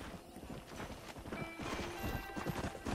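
A horse in the Red Dead Redemption: Undead Nightmare video game trots up with steady clip-clopping hooves, and a neigh rises partway through, all over continuous game ambience.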